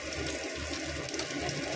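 Water pours steadily and continuously into a curry pan of potatoes frying with spices and oil, a soft, even rush with no talk.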